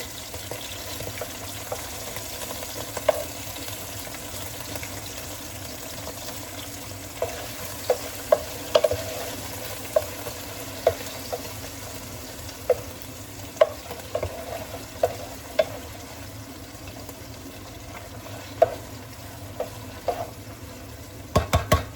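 Meatballs frying in a pan for spaghetti and meatballs, a continuous low sizzle with scattered pops and spatters, heard close and without any talking.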